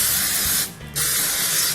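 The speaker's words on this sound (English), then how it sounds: "I always spray with" Cooking oil spray hisses from a can over raw chicken being prepared with garlic and rosemary: two close, steady bursts split by a short pause.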